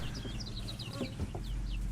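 Chickens clucking close by in a farmyard, a run of soft, repeated clucks and chirps over a steady low background hum.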